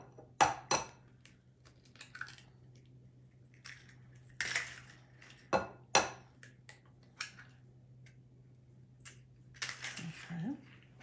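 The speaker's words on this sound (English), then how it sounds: "I like to crack them in a bowl first" Four eggs cracked one after another into a bowl at home while making mandelbread, giving a string of sharp, close shell taps and clicks with quiet pauses between them over a low steady hum.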